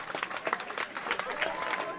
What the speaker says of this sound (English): A lot of the fans are on their feet. They are beginning to scream.